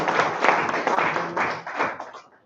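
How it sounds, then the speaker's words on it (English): An audience at an awards ceremony breaks into a short burst of clapping, dense and fairly close, fading out after about two seconds. "Another warm round of applause for Gas to"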